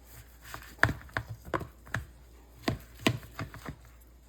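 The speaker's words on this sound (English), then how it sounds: "I need to cut that one up a little bit more." A knife cuts up a roughly three-pound T-bone steak on a board in a string of sharp, irregular chopping knocks, about a dozen over a few seconds, close and fairly quiet with no talk.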